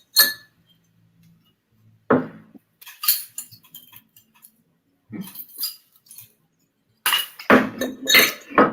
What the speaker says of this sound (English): And then putting more ice.